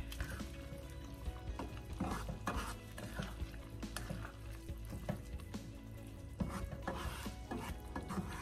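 Collard greens stirred in a pan with apple cider vinegar, with repeated scraping, wet tossing and a light sizzle in a busy, close, continuous rhythm.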